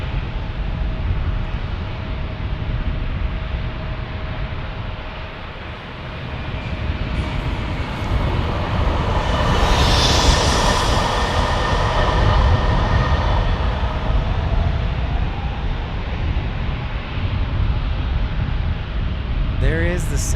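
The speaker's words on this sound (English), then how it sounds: "Looks like a Cessna Citation." A NetJets Cessna Citation business jet approaching the single runway at San Diego airport: a loud, broad jet roar that swells to a whining peak midway and then holds steady, with people talking over it.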